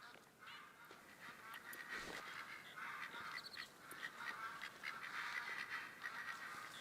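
Ducks call from a distance in the hunting game The Hunter: Call of the Wild, faint scattered quacks over a steady outdoor ambience near the waterfront.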